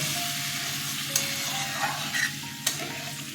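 Chana dal curry sautéing in a pan keeps up a steady sizzle while water is poured in, with a few sharp spoon scrapes and clinks scattered across the few seconds.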